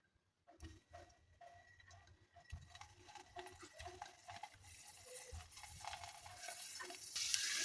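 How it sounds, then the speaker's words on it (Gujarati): Dana muthiya dumplings dropped into hot oil and frying over a low flame, a hissing sizzle that starts quiet and swells steadily louder, with soft clinks of utensils along the way. "આપણે મુઠિયા તળી લઈએ."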